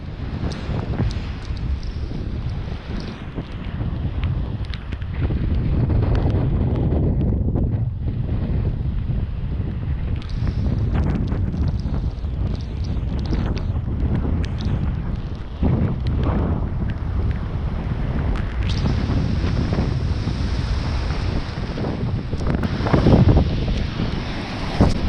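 Hurricane Florence wind and heavy surf crash through wooden pier pilings, a continuous loud roar of gusting wind and breaking waves with microphone buffeting throughout, no voices.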